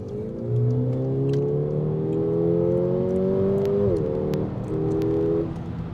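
A Mercedes-Benz CLA 45 AMG Shooting Brake with 381 horsepower accelerates at full throttle from 50 to 120 km/h, engine note climbing steadily, a brief dip at a gear change, then rising again, heard loud from inside the car.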